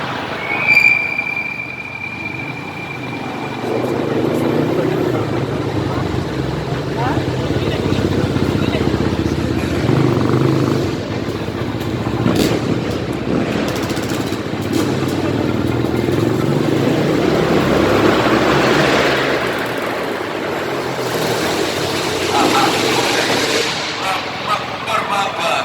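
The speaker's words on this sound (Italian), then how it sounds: "Warm-up tra i piloti quest'oggi impegnati, 2 moto, un quad." Two motocross bikes and a quad warm up on a track under the Pirellone in Milan, their engines droning and revving steadily for nearly half a minute, with a sharp whine near the start and surges later on.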